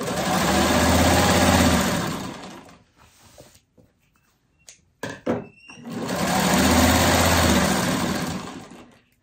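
A sewing machine stitches a fabric letter in two sustained whirring runs, with quiet clicks and handling noises during the pause between them.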